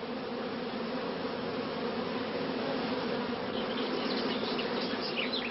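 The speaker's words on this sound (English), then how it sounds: "the bees form a dense covering on the comb" Honeybees on a comb just lifted from the hive fill the air with a dense, steady buzzing hum, close and continuous, with a few individual bees whining past near the end.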